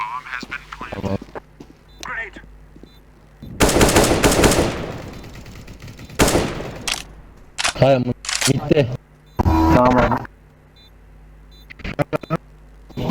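Gunfire in the CS:GO video game, with loud bursts of rapid automatic shots in several clusters, mixed with players talking over voice chat throughout.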